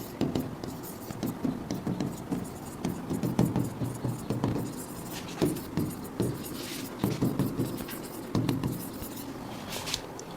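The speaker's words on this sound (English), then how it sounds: "let me just write it down" Pen scratches on paper come in short irregular bursts while someone writes out a physics solution by hand, faint and close with light taps between strokes.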